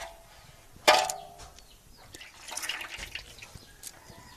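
Liquid Agneyastra preparation is strained: a sharp clink followed by splashing, trickling and dripping that comes in uneven bursts, close by and with no talking.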